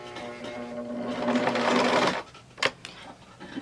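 Sewing machine stitching forward on a Y seam, a loud rapid mechanical whir lasting about two seconds, then stopping, followed by a couple of brief clicks and taps, with no voices.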